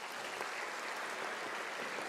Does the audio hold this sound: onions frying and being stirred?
no